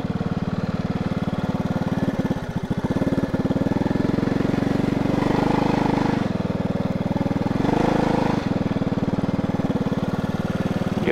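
Motorcycle engine running steadily and loud nearby on a riverside trip, a rapid mechanical putter with a few slight changes in pitch and load, no talking over it.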